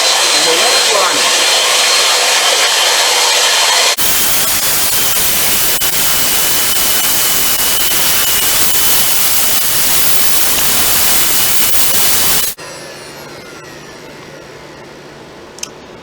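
A CNC router cutting a programmed job in a workshop, giving a loud, steady broadband roar with a faint whine that holds for about twelve seconds before dropping to a quieter hum and a brief click.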